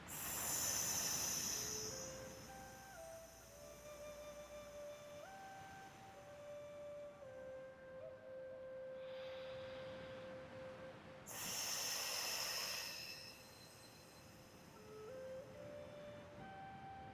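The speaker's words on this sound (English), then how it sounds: "we find 5 of our whistler breaths, relaxing the respiratory system" Two soft, hissing whistler breaths from a breathing exercise meant to relax the respiratory system, one at the start and another about eleven seconds later. Both are faint, with quiet sustained tones underneath and no speech.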